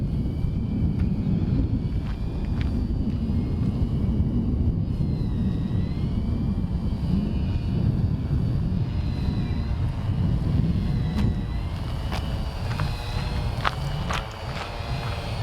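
Propellers of a Tarot X6 960 hexacopter in flight give a steady, loud droning whir with a low rumble and a few faint tonal whines across the whole stretch.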